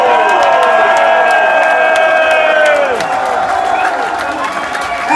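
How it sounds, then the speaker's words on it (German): A large crowd claps, cheers and whistles for the winner of the final of the 11th Ultimate MC Battle rap contest, a loud, dense roar that holds steady throughout. "Mach einen Applaus für den Gewinner vom 11. Ultimate MC Battle"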